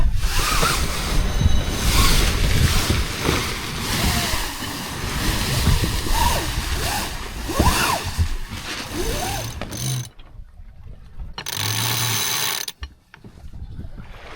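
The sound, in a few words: sailboat sailing on a gentle Arctic Ocean sea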